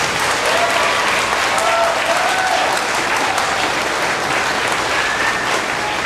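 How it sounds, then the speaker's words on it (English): Sustained applause from an audience honoring Mr. Mowbray at a veterans' recognition event, dense and steady for the full stretch, with a few faint voices mixed into the crowd. "Another round of applause for Mr."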